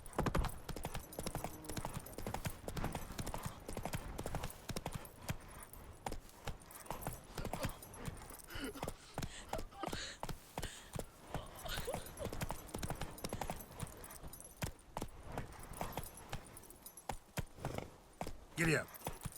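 Horse hooves galloping in The Witcher 3, a rapid continuous clip-clop rhythm up close, with occasional rider voice and a brief whinny near the end.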